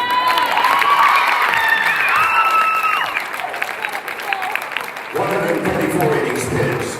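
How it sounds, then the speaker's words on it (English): An audience at a high school sports awards event applauds and cheers loudly and continuously, with shouts and whoops rising from the crowd and talk from the front coming in near the end. "You can go ahead and start applauding."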